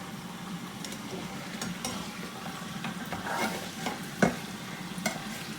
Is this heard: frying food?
yes